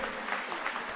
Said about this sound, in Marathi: जोरदार टाळ्या त्यांच्यासाठी या ठिकाणी झाल्या पाहिजेत